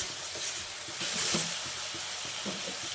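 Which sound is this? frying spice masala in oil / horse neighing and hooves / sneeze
frying spice masala in oil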